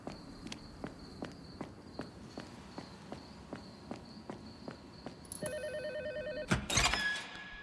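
Telephone ringing in the horror video game Tormented Souls II, a brief electronic ring near the end, preceded by a steady series of regular footsteps walking along a street with a faint high tone running through the background.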